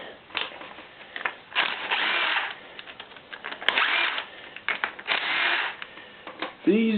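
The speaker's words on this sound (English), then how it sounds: "Get our little impact wrench, take the rest of the bolts out" A small impact wrench rattles in repeated short bursts while pulling bolts from the rear end case of a Toro 522xi hydrostatic transmission, with brief pauses and clunks between the close, loud runs.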